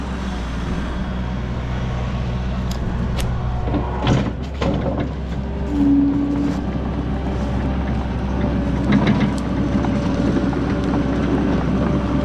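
The freshly rebuilt engine of a monoboom skid steer runs at a steady idle, a constant low drone with wind buffeting the microphone and no voices.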